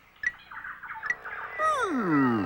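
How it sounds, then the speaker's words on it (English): Tropical bird calling nearby, a series of bright chirps and whistles followed by a long, loud descending warbled call, clear and alone. "Just one of many amazing tropical birds"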